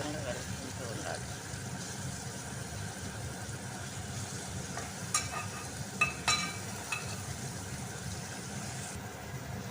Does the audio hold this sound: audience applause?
no